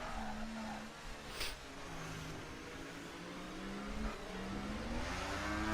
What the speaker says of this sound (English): BRT Jacob gets this race back underway, and here we go for the last few laps of the Grand Prix.